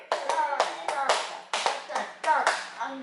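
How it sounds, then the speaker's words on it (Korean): A group of older adults playing a clock clapping recreation game claps in distinct sharp bursts, several separate claps in uneven groups with short gaps between, close and fairly loud, with voices chiming in between. "3시 박수 쳐볼까요?"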